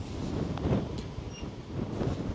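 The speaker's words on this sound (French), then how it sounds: "Et là, il y a toujours du vent par contre. Il y a toujours autant de vent." Wind at the seaside near a ferry landing, buffeting the microphone in a steady low rumble with gusty swells throughout, loud and close, with no talk.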